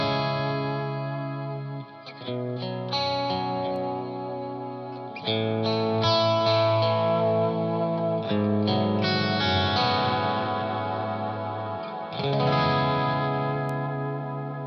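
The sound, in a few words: electric guitar through overdrive pedal, clean tone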